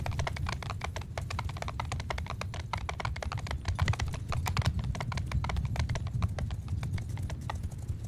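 Cavalry horse archers gallop across a battlefield in Mount & Blade 2 Bannerlord, a dense, continuous rattle of many hooves pounding close and loud for the whole stretch, with no voices over it.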